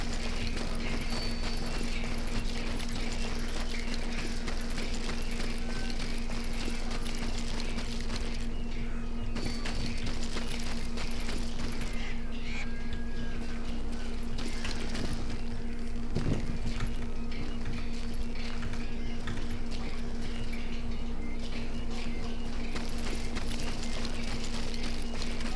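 Horse hooves clip-clop steadily in the Western video game Call of Juarez, a continuous walking rhythm over a constant in-game ambient hum, moderately loud and with no talk.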